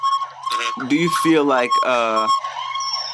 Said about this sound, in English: well, there's sirens now. I hear the sirens.